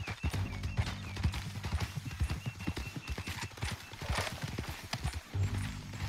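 Horse hooves clop in a quick, regular rhythm close by in Red Dead Redemption 2, with a horse whinnying and a voice briefly heard.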